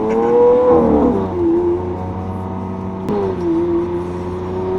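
Lamborghini Aventador fitted with a race exhaust and cat delete, revving twice in quick succession: each loud rising howl falls back to a throaty idle, heard up close with no talk.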